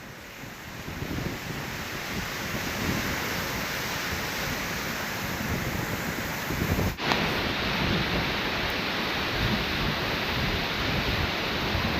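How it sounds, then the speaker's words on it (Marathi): Rushing river water flows steadily as a broad, continuous wash, loud and close, with wind noise on the microphone and no talk. "आता आपल्याला वाटतं एवढं संतपणे पाणी चाललं आहे, पण ते संत नाही आहे."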